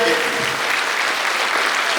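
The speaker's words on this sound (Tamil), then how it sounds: "இந்த கைத்தட்டல் அப்படியே எங்க போய் சேர்க்கலாம்" Loud, sustained audience applause at a Tamil comedy debate show in Coimbatore, dense clapping filling the whole stretch with a faint voice underneath.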